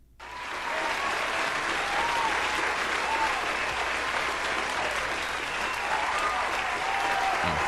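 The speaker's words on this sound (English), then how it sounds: "That's a long-ass applause." A long applause sound effect plays on a live stream: a steady, loud wall of crowd clapping that swells in within the first second and continues unbroken to the end.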